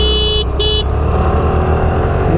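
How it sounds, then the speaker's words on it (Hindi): Horn of a Suzuki Burgman Street or Access 125 scooter, two loud close toots in quick succession over a steady idling engine hum. "चलो हॉर्न देंगे भाई।"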